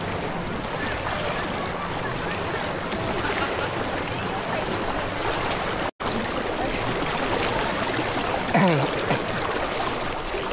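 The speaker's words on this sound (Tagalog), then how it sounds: "Kami agad sa malapad na ilog dito." A wide river rushes steadily at the start of a coastal hike, a loud broadband roar of flowing water that fills the scene continuously, with a brief dropout and faint incidental sounds.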